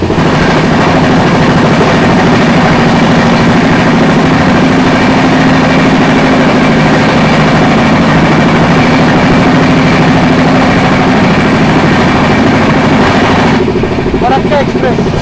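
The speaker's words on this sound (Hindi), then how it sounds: "सामने से आती हुई बालूरघाट बठिंडा फरक्का एक्सप्रेस" Balurghat–Bathinda Farakka Express train approaching past Shikohabad Junction, a steady loud rumble of heavy engine and rolling wheels filling the whole stretch, with a brief shift near the end.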